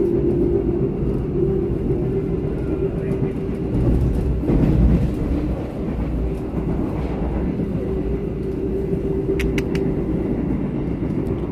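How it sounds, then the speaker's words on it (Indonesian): Pangandaran passenger train running straight through Indihiyang station without stopping, a steady close rumble and wheel noise filling the whole span, swelling briefly midway with a few high squeals near the end. "Kereta api Pangandaran melintas langsung stasiun Indihiyang."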